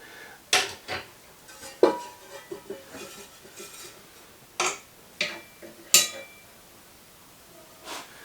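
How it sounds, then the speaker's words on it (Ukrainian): Metal frying pans clank and clatter in a kitchen as they are hung up, sharp, irregular knocks and clinks spaced a second or so apart, close and fairly quiet with no talking. "Придумав вішать сковорідки."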